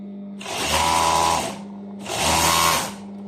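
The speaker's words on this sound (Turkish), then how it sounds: "Siz düz dikiş makinenizde dikip zikzakla ovarlığını temizleme yapabilirsiniz." A sewing machine stitches trouser legs in two loud, close bursts of rapid whirring, each lasting about a second, with a steady motor hum between runs and no talk.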